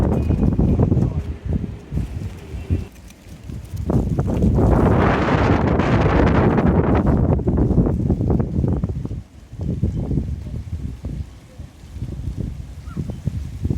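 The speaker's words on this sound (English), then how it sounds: "To prove I'm not adding it later on when I edit, it is in fact windy." Strong gusts of wind buffet a microphone outdoors on a damp, blustery late-autumn walk, with rushing low roar swelling for several seconds in the middle and easing off toward the end.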